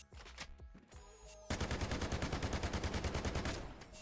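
Sustained automatic fire from a SCAR-H rifle in Delta Force Hawk Ops, a few scattered shots giving way to a rapid, evenly spaced burst of loud cracks lasting several seconds.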